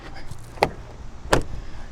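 Door of a 2021 Chevrolet Tahoe Premier SUV opening and then shutting, two distinct sharp thuds about half a second apart, fairly close, with faint background noise and no talking.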